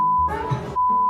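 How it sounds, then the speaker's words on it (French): Two loud, steady censor beeps sit at the start and end, with a burst of speech between them where country names are blanked out. "on va bip à chaque fois. À chaque cut que je dis les pays, ça va cut"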